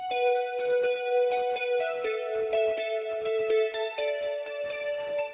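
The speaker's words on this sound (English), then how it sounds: "Dream Lounge is like one of my favorite presets on Guitar Rig, and it happens to use chorus" A guitar played through the Guitar Rig Dream Lounge preset, which combines chorus, phaser and more, rings out as sustained, shimmering chords that change every couple of seconds, loud and alone.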